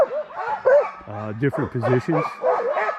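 Sled dogs yip, whimper and bark excitedly on a snowless dog-sledding trail in Willow, Alaska, with a person talking over the eager barking.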